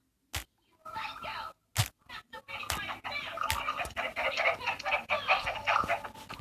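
Minecraft chickens cluck and squawk in quick, uneven bursts, starting sparse and then becoming a busy, continuous clamor close by.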